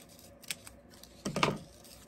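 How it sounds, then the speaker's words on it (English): Scissors cutting open ribbon packaging for a craft project, two brief close snips, a light one early and a louder crisp cut a second later, in an otherwise quiet room. "So let me just cut this open."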